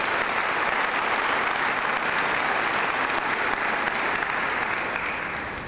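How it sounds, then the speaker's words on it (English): Steady, dense audience applause at a county government State of the County event, loud and continuous for several seconds before tapering slightly at the end, with no talk over it. "If we could give them a round of applause"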